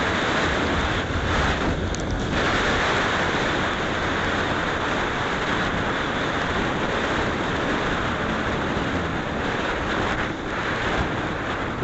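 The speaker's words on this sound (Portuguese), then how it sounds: "E tá uma ventania" Strong gusting wind buffets the microphone continuously, a loud roaring rumble with no voices, recorded outdoors by someone wearing a helmet.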